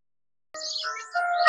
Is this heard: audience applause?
no